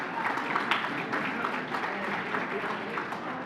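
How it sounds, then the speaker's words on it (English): Banquet audience at a county Hall of Fame gala applauds their table, a moderate room-filling patter of clapping that stays fairly even, with faint background murmur. "A round of applause for your table."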